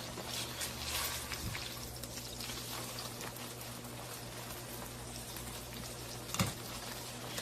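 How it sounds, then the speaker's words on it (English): A tortilla cooks in a pan with a faint, steady crackle and sizzle, soft and continuous, with a couple of brief clicks. "I'm going to flip it over and let the tortilla cook on the other side"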